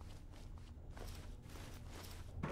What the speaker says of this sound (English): But I hear big fat footsteps on the other side.